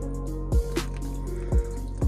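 Water slowly poured, trickling and dripping onto coconut chip reptile substrate, with a few dull thuds over a steady low hum.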